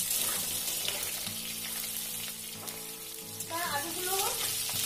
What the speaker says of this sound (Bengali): এই দেখো জিরে ফোড়ন দিয়ে আমি আলুগুলোকে